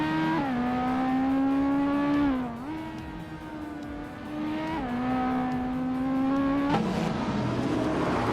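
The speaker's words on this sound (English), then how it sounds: "revving up in a 2008 Ferrari F430 Scuderia" A 2008 Ferrari F430 Scuderia in a racing game, its engine holding a loud, steady high rev with a couple of brief dips and climbs, then a sharper surge near the end, alone with no talk.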